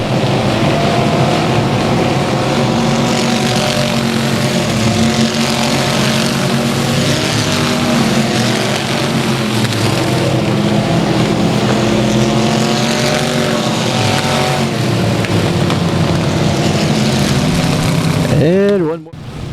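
Race cars at South Texas Speedway roar loudly around the track in a sustained, dense engine drone with layered pitches as the field passes, under an announcer's running commentary.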